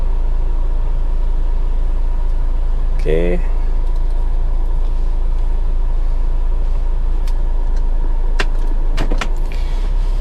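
A used Nissan Grand Livina HWS with an automatic transmission drives along with a steady, low engine rumble throughout, a brief spoken word, and a few light clicks and knocks near the end.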